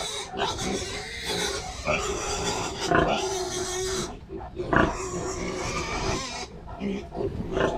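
Muddy, wounded pigs grunt and squeal in noisy bursts at close range, with people talking over the commotion throughout.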